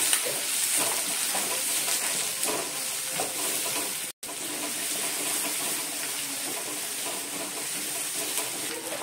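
Onion and curry leaves sizzle steadily in hot oil for a raw banana fry, a continuous dense crackle close by with light stirring and one brief cut partway through, no talking.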